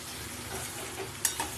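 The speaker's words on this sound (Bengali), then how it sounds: "পেঁয়াজ দিয়ে আলু দিয়ে ভালো করে আগে ভেজে নেবো" Potatoes and onions frying in a wok give a steady close sizzle with stirring throughout, then one sharp metallic clink near the end; no voices.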